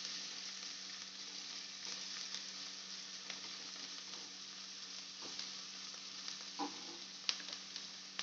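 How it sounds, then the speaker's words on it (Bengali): Chopped onion sizzles and fries in a pan for soya chunk fried rice, a steady broadband crackle with occasional stirring scrapes and pops, close and alone without talk. "পেঁয়াজটা ভাজা ভাজা হয়ে গেছে"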